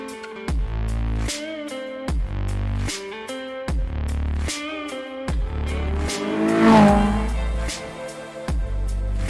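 A 230 bhp Honda K20-engined car accelerates hard on a test drive, its engine note climbing in a series of loud, choppy rising bursts broken by brief gaps.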